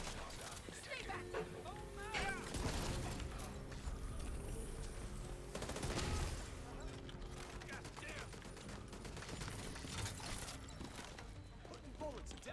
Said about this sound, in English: Putting bullets downrange.